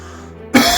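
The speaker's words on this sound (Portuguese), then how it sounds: "Sara essa tosse que está aqui no meu peito, essa tosse." A single sharp, loud human cough bursts out after a quiet lead-in.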